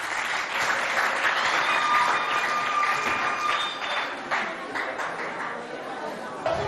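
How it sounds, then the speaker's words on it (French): Applause breaks out at a school event in Moundou, Chad, with steady clapping and crowd chatter under it, and a voice speaks over the noise. "On l'applaudit, s'il vous plaît."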